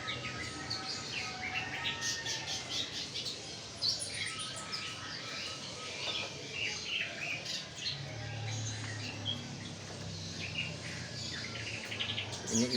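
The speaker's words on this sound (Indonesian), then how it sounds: "Ini dari Eropa, sikatan londo." Imported European flycatcher (sikatan londo) kept as a caged songbird, singing a quiet, continuous stream of thin chirps and short phrases over a faint buzzing, insect-like background.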